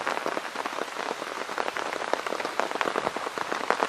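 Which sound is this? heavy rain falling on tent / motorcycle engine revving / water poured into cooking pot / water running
heavy rain falling on tent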